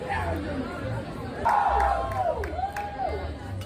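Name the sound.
crowd applauding people exiting the ride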